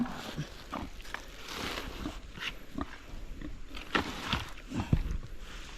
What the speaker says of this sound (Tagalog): Papakain tayo ng baboy.